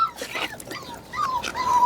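A husky dog gives a few soft, high whimpers and whines, close by and fairly quiet, with no talk over it.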